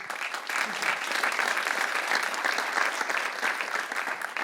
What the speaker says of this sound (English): Big applause again.